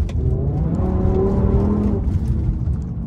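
BMW M5 E60 with a V10 and six-speed manual at full throttle in second gear, a loud, close engine note climbing steadily in pitch, then shifting and droning on.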